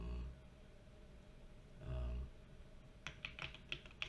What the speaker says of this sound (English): I'm gonna type immediately